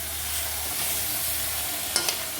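Chicken masala with tomato sautéing in a pan gives a steady, fairly loud sizzle throughout, with two quick utensil clinks near the end.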